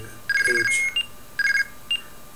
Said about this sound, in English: We'll play the guard tone to start the ANI sequence